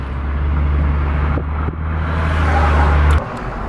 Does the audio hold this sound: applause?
no